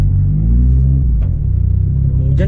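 A warmed-up Mitsubishi Lancer Evo VII engine idles close and loud, a deep, steady rumble with a slight lumpy pulse and a faint throttle blip near the end.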